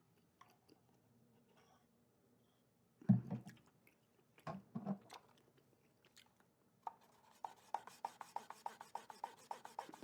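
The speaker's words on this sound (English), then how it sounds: "Let me scrub Baseball Simulator," Scrubbing and rubbing on a Baseball Simulator video game cartridge, with soft scattered friction strokes, a few louder scrapes, then a quick run of rhythmic brushing strokes, close and quiet with no talk.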